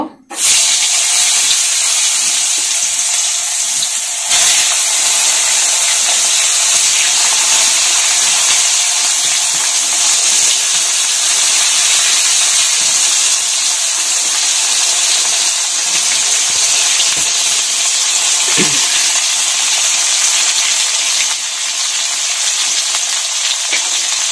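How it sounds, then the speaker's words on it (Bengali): Eggplant pieces fry in a pan, giving a constant, loud hiss and sizzle with occasional soft stirring scrapes, heard alone without any voices. "এখন বেগুন গুলোকে একটু ভেজে নিব।"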